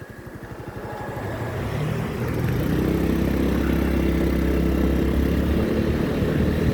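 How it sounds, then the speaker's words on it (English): A motorcycle cruises slowly along an open road, its engine thumping close and steady, while a car's rushing drone builds over a few seconds as it comes alongside and passes. "I'm gonna let this car pass so that way he doesn't have to stay behind my slow ass"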